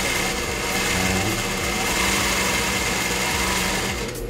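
A Singer 20U industrial sewing machine running at high speed, a loud steady close whirring drone that continues unbroken and then cuts off just before the end.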